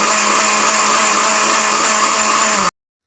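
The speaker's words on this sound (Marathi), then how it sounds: "आता हे सर्व मिश्रण आपल्याला मिक्सरच्या भांड्यामध्ये बारीक असं वाटून घ्यायचं आहे" A kitchen mixer grinder whirs loudly and steadily as it grinds garlic, ginger and coriander seeds, running for under three seconds before cutting off abruptly into silence.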